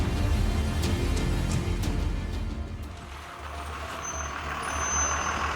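A bus slows to a stop with a loud hiss of air brakes after a heavy rumbling engine, followed by a brief quiet lull and steady hissing air.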